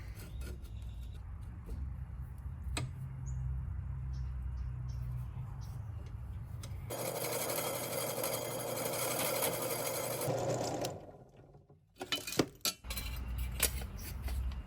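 A small power cutting tool trimming the back off a part while revamping a Mercedes diesel wagon, a steady mechanical buzz that switches to a harsher, brighter grinding whine for several seconds, then stops with a few clinks, close by.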